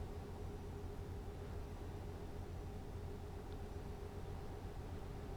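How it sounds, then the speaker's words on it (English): Simulated truck engine in Euro Truck Simulator 2, a steady loud droning rumble with a constant hum, unchanging throughout and no voices. "What a noisy truck I have."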